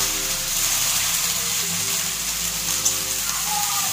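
Chopped onions frying in a generous amount of oil, a steady close sizzle and crackle running without pause under a low background hum, with no speech.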